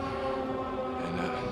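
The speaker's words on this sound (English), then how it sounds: "I can hear the sirens going right now" Sirens wailing far off in the distance at night from a dark hillside, a sustained tonal drone alone with no talk.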